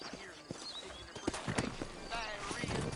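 Horses trot with rhythmic clip-clop hoofbeats in a Red Dead Redemption game scene, moderately faint beneath someone talking, with a brief whinny.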